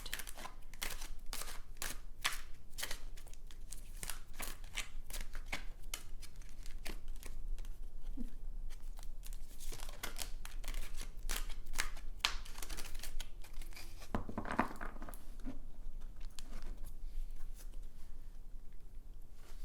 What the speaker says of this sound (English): Just gonna shuffle again